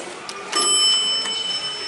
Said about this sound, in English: Nice mechanical bell.